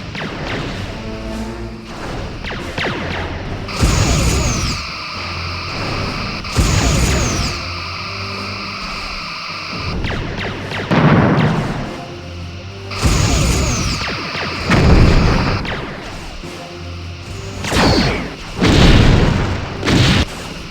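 Disruptor cannons firing in the Star Trek: Bridge Commander space combat game, heavy booming blasts repeating in clusters over a low mechanical drone, loud and close.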